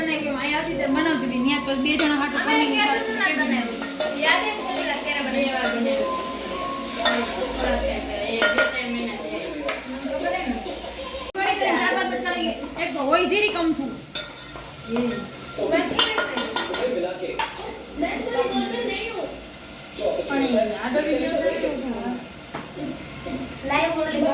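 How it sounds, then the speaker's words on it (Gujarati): A paneer curry being tempered in a pan sizzles under lively talk, with frequent clanks and clinks of a metal spoon and utensils against the pan throughout. "પનીરનું શાક વઘારે છે"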